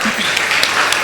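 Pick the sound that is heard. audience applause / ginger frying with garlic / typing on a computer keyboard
audience applause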